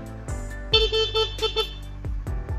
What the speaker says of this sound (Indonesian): Klakson juga masih berfungsi dengan baik.